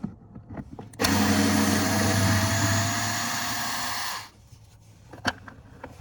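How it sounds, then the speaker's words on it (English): A Ryobi electric screwdriver backs out a T15 screw during a Dodge Nitro rear window regulator job, one steady whirring run of about three seconds, loud and close, with no talking. "I'm using a Ryobi screwdriver, electric screwdriver"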